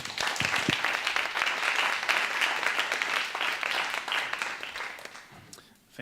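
An audience applauds to welcome lecturer Jonas Staal at an art and propaganda talk, a sustained dense patter of many hands in a hall that holds steady, then thins out and fades near the end.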